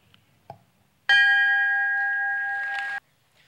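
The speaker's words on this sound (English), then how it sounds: "with the striking of this historic bell, at the very peal of the bell, you will officially be graduates of Dickinson College" A historic bell at a Dickinson College commencement rings out once with a single loud, clear strike whose tone holds steady for about two seconds before cutting off, after a few faint background sounds.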